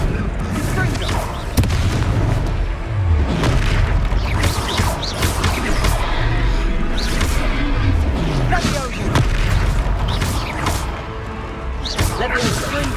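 Confringo blasting spells in Hogwarts Legacy set off a rapid run of loud booming explosions throughout, with voices calling out in between and combat noise layered over them.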